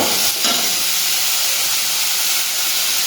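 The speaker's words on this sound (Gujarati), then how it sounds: "હવે થોડી વાર આપણે સાતળી લઈશું" Grated ginger and ingredients being sautéed in a hot pan while making kachori, a steady loud sizzle and hiss throughout with faint stirring.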